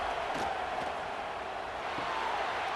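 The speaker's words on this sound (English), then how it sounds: "And here comes the noise. This crowd is trying to inspire this defense to make a big red zone stop." A stadium crowd roars at an Alabama vs Auburn rivalry college football game, a steady, fairly distant wash of cheering noise with no clear breaks.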